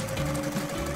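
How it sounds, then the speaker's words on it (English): A sewing machine set up for stitching sequin fabric into a costume hums steadily at close range, a continuous motor drone with a sustained tonal whine. "Set up the sewing machine."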